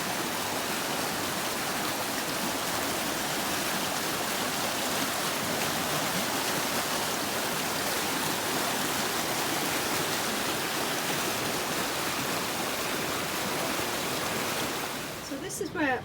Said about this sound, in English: Check how high the burn is.